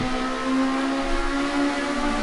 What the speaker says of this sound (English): Hear that Ford spinning its rear tyres coming up the hill.